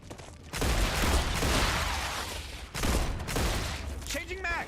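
Pistol fire in a sci-fi video game battle against alien hordes: dense bursts of rapid shots with a short pause midway, loud and close, ending with a few electronic chirps.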